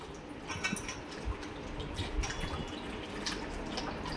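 Ajwain seeds being rinsed in water by hand, with soft dripping and light splashing sounds, fairly quiet and close, with no speech.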